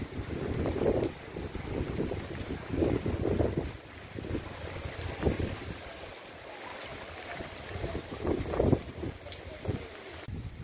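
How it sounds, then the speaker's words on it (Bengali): Strong cyclone wind from Cyclone Remal in West Bengal roars and buffets the microphone in loud gusts, with rushing waves mixed in, swelling and easing across the clip. "সেটা খালি দেখুন কতটা জোরে হাওয়া বইছে"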